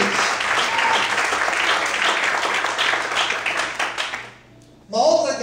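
Church congregation clapping during a sermon, a full, rhythmic wash of hands that fades into near quiet before a voice briefly cuts in at the end.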